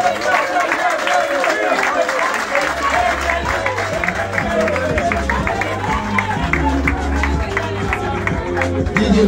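Audience applause at an evening show, a dense, loud wash of many hands clapping steadily throughout, with a low musical hum and some voices mixed underneath.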